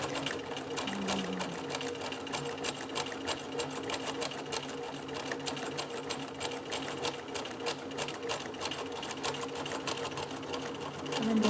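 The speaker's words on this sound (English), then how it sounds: "So this is the single row of top stitching" Sewing machine running steadily through a single row of top stitching along a seam, a continuous close whirring with a rapid needle rhythm throughout, rising slightly at the end.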